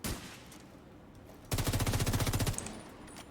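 Gunfire in The Division 2 during a player-versus-player fight: a quiet lull, then a loud rapid automatic burst of about a second, fast evenly spaced shots, then a fading tail.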